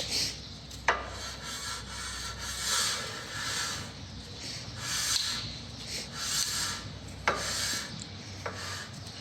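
Rear brake shoes on a Toyota RAV4 lightly rubbing against the drum, a soft continuous scraping rasp that swells and fades in slow cycles as the wheel turns, with a few sharp clicks, close up and no talk.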